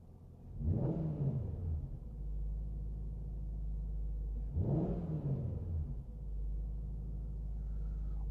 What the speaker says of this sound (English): you do get a little bit of induction roar from under the bonnet